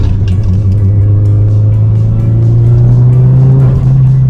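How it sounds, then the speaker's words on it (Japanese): Subaru Legacy BP5 fitted with a GRB EJ turbo engine, a loud steady drone with a rising turbo whine as the revs climb, close and continuous with no talking. "結構タービンの音聞こえますか？"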